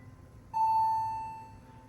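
Older Otis Series 1 hydraulic elevator arriving at a university residence hall, marked by a single sustained electronic arrival chime that rings out clearly and slowly fades over a low background hum.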